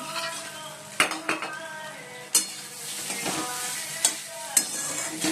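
Flattened rice pulao (chire polao) with peanuts being fried in a pan, with a continuous sizzle broken by several sharp clinks and scrapes of a spatula against metal, close and fairly loud.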